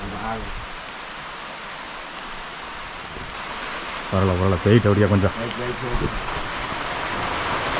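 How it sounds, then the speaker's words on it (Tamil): Steady rain falls in a forest tribal village, a dense hiss running through the whole stretch while people talk briefly in the middle. "இப்போ தான் வந்திருக்கு மழை."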